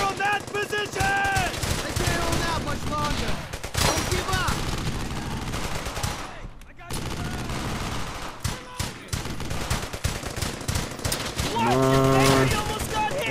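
Gunfire in the World War II shooter Brothers In Arms: Hell's Highway, dense bursts of automatic fire and shots amid shouted voices, with a short lull midway before the firing resumes loud and close.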